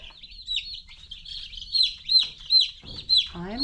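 Delaware broiler chicks peep in a close cluster of high, repeated chirps, bright and continuous, with a voice briefly audible near the end.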